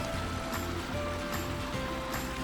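Fast, strong water rushing in a forest stream on a farm, a constant dense wash of flowing water close by with no talking.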